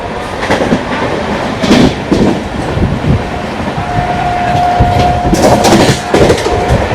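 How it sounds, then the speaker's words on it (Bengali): An Amrit Bharat Express train running between NJP and Kolkata rumbles loudly on its rails, heard from on board, with a steady rhythmic clatter, short bursts of louder wheel noise and a thin squeal in the middle. "অমৃত ভারত ট্রেন আমাদের সিগন্যাল না পাওয়ার কারণে এসে দাঁড়িয়েছে ডালখোলা স্টেশনে"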